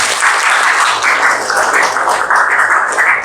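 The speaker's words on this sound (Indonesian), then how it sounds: "tepuk tangan dulu buat kita semua." Classroom applause for everyone: a dense, continuous clapping of many hands from a group of students, steady and fairly loud, with no talk over it.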